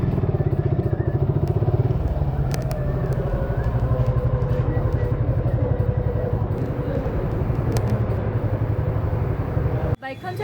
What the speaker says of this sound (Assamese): গাড়ীখন ভিতৰলৈ সোমোৱাই দিওঁ